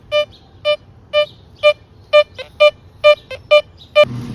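An XP metal detector sounds off over a nickel target with the bottle cap range notched out, giving a series of about eleven clear, loud, evenly spaced electronic beeps, with a couple of shorter blips in between.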